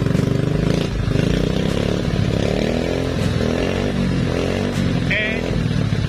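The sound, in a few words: RXF 50 motorcycle engine being revved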